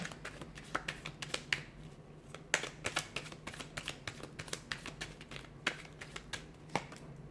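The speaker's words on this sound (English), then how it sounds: "Let's give the cards a shuffle and see what they're predicting for you here." Soft, rapid riffling and tapping of tarot cards being shuffled nearby, a steady patter of small clicks with no talking.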